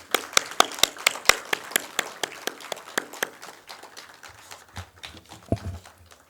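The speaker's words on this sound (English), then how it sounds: "Shall we give him a huge round of applause?" Applause greets a guest at a civil aviation ceremony: a sparse, rhythmic run of sharp claps, close and fairly loud, thinning and fading over several seconds.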